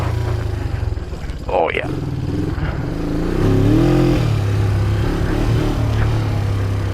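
A 1973 Honda CL350 motorcycle engine runs with a steady low idle and then revs up briefly, mostly under a person talking close by.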